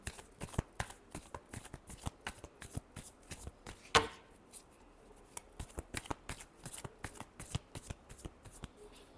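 Tarot cards being shuffled by hand, a rapid run of crisp riffling snaps and flutters, a sharp bridge-like flick midway, then more steady shuffling, close and clear with no talk.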